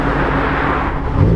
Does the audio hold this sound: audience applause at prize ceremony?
no